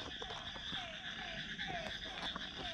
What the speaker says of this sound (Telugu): ఈ కప్పలు